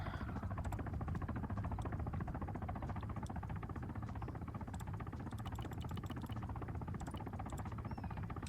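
A Kajman attack helicopter in Arma 3 thrums continuously with a steady rotor and engine drone, moderately loud and unbroken throughout.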